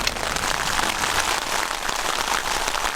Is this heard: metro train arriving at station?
no